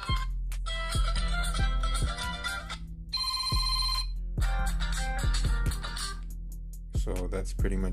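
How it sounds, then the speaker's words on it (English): Ringtones play on a NUU Mobile G5 smartphone, bright electronic melodic chimes and bell-like tones cycling through short patterns over a steady low bass layer, loud and continuous. "you do also have the ability to change your ringtones"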